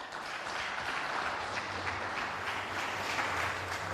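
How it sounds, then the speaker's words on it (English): Audience at a Kenyan university cohesion week event gives a sustained round of applause after a speech, a dense, even wash of many hands clapping at moderate distance, with no talk over it. "Another beautiful round of applause for Reverend Dr. Kobia."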